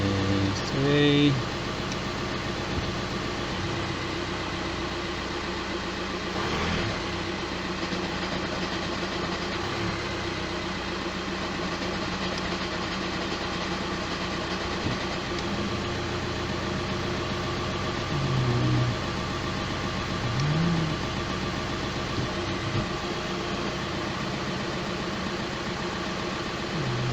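A 2005 Volkswagen engine idles steadily while warming up, a constant low hum with a faint whine that runs throughout, with a few brief clanks near the start and some faint noises later on.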